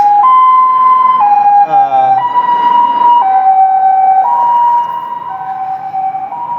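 An ambulance siren passes close by in the Maldives, a loud wail stepping between high and low tones that drops somewhat in level near the end.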